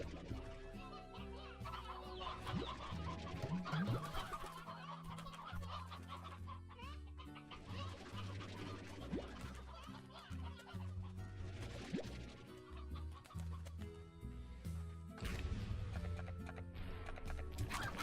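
Chickens cluck in the Slime Rancher video game, layered under continuous background music and game ambience and fairly faint in the mix.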